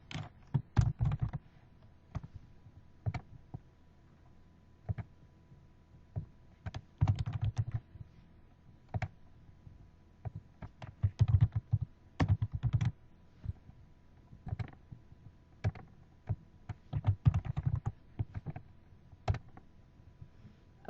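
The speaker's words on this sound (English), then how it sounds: "let's type some stuff in here" Typing on a computer keyboard, with irregular bursts of close, soft key clicks and short pauses throughout, and no one speaking.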